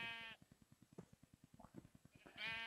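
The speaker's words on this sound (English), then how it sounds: "We have sheep, so there is some food around." Minecraft sheep bleat at the start and end, short wavering cries framing a run of soft rhythmic blocky footsteps in the game.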